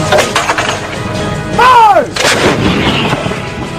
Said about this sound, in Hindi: इस तोप को पहले तो टारगेट की तरफ घुमाया गया, निशाना फिक्स किया गया और फिर शुरू हो गया बमबारी का सिलसिला।